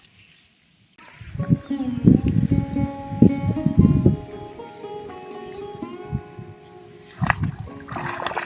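Someone steps into knee-deep water in a sunny wetland, producing several close, loud splashes and sloshes in quick bursts with trickling water between them.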